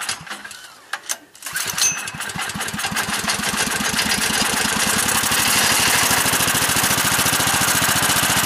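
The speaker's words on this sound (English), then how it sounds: "That is a generator running completely on synthetic gas." A small generator engine running on synthetic gas from a wood stove sputters, then catches and settles into a loud, steady, rapid chugging run that grows stronger, with a brief voice near the start.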